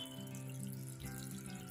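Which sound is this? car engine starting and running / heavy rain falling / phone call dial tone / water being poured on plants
water being poured on plants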